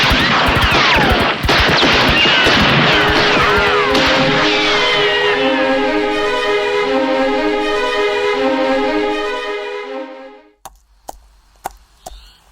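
A rapid volley of gunshots cracks out loud and close in a radio drama, overlapping with ringing, whooshing tones that fade out, followed by a few scattered sharp shots alone at the end.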